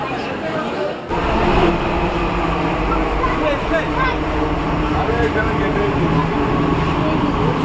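A Delhi metro train rolls along with a loud, steady rumble and rattle, after a short quieter moment at the start, while people talk underneath.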